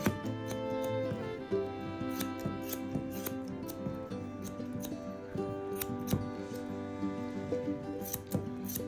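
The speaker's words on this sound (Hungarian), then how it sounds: "így elfektetem az ollót, és mindent lenyírok" Steel grooming scissors trim the fur around the paw pads of an English Cocker Spaniel. Crisp, repeated snips sound close and fairly loud in an irregular rhythm, with a faint background hum and no talking.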